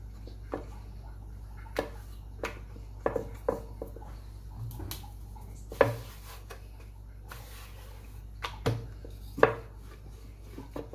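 Naan dough balls being rolled out on a floured surface with a rolling pin, making soft scattered knocks and taps against a steady low hum, with no voices.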